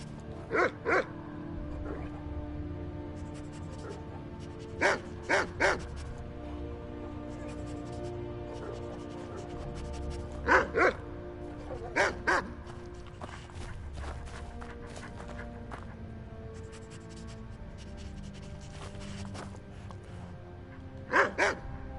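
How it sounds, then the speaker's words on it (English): Dogs bark in the video game Skyrim, coming in short clustered bursts of two or three barks at intervals over a steady game ambience. "Oh, I didn't know we got dogs here."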